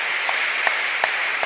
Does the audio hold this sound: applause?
yes